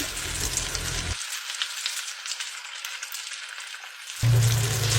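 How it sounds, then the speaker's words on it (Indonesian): Fried chicken sizzling in a pan in a home kitchen, a steady close crackle and hiss that dips briefly in the middle, then swells back louder. "Lo kan suka ayam, jadi gue bikin ayam goreng."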